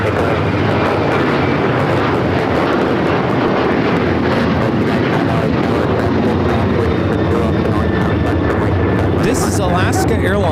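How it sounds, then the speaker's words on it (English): Alaska Airlines Boeing 737-900ER jet taking off from runway 25 right at LAX, a loud continuous roar of jet engines that holds steady throughout, with speech faintly over it. "This is Alaska Airlines 1418 taking off to Guadalajara on the 737-900ER"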